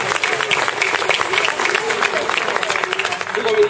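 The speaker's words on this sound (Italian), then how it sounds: "Ancora un applauso." A summer evening crowd at an outdoor farmhouse event applauds children on stage, loud lively clapping with crowd murmur and voices mixed in.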